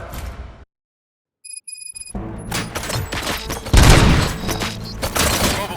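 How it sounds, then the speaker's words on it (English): Gunfire and impacts in the Robocop: Rogue City video game, a brief hush with faint electronic tones giving way to loud, dense bursts of shots and heavy thuds rising to a booming peak. "Gunshots? What's going on?"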